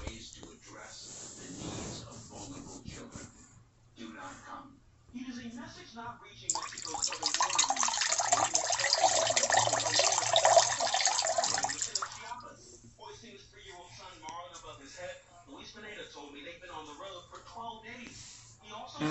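Liquid splashes and trickles onto a zonko in a burst lasting several seconds, presented as peeing, with voices talking quietly before and after the pour.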